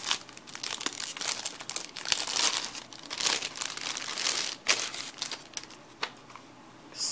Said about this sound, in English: I think I can open hers because she also just has it in this clear plastic wrapping.